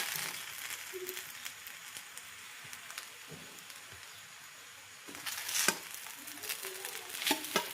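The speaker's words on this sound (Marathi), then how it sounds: "आता खिचडी परतायला घेतली आहे" Khichdi is stir-fried in a wok (kadhai) with chillies and crushed peanuts: a faint, steady sizzle, broken by soft scraping and clinking of a spatula that grows busier toward the end.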